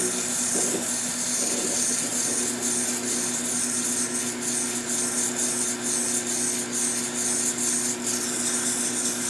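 Close and steady, a pen blank spins on a wood lathe under a tool held with light pressure, giving an even rasping hiss with a constant motor hum beneath and no talk.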